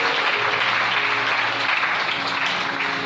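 Church congregation applauding and cheering to acclaim the Lord, a dense, steady wash of clapping from a large crowd filling the room throughout.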